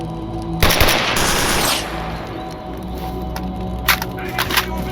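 Rapid bursts of automatic gunfire in the shooter game S.T.A.L.K.E.R. Anomaly, a loud sustained volley followed by scattered shots, with brief speech nearby.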